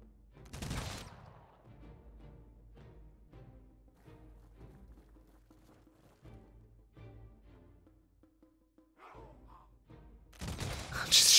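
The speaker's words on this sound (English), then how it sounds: "Just shooting over the walls." Units in the Humankind strategy game fire over city walls, giving scattered sharp shots and a few louder volleys amid a fairly quiet battle background.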